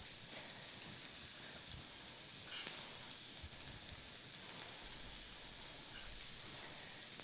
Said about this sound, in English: All right, that's starting to sizzle.